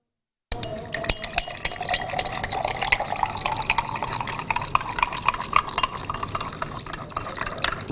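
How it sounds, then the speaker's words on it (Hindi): A spoon stirs two tablespoons of pineapple-flavoured powdered drink mix into water in a large glass, giving a continuous swishing of liquid with frequent light metallic clinks against the glass, close and steady. "इसको आपने पानी के साथ जो है डिज़ोल्व कर लेना है"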